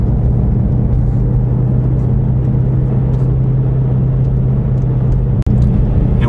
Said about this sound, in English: Now I'm in third, cruising.